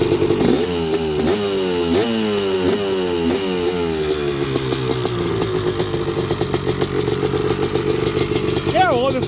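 A 1987 Honda TRX250R ATV engine runs loud and close, revving with rising and falling pitch sweeps before settling into a steady, rapid idle putter.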